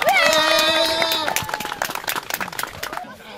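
A short burst of scattered hand clapping for the winner at a club mountain bike race in the woods, rising after a voice and then thinning out.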